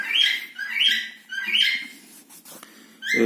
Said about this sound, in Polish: mam tutaj papugę, która się rozgadała